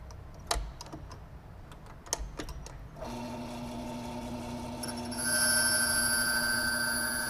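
A locksmith's key duplicating machine starts up and cuts a key, a steady loud mechanical whine with high grinding tones after a few sharp clicks of setup, growing louder partway through.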